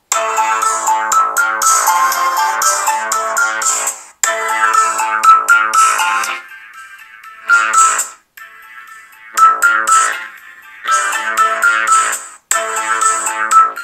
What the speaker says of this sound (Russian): Также интересно проверить звучание основного динамика.